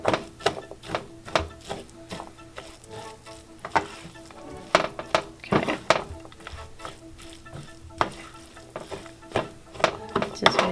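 A utensil mixes radish cake ingredients in a pan with the heat still off, making repeated close scraping and tapping strokes in an irregular rhythm, with no talk.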